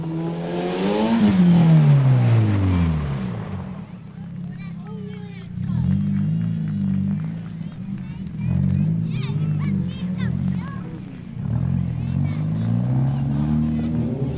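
Stunt cars at Paul Riddell's Imperial Hell Drivers motor show in Bridgewater, 1996, loudly rev and surge past with a rising, falling engine sweep. A steady throbbing engine drone follows, with crowd murmur underneath.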